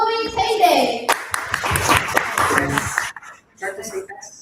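Audience applause for a speaker at a stage event breaks out as a dense burst of clapping lasting about two seconds. Talking follows after a short pause.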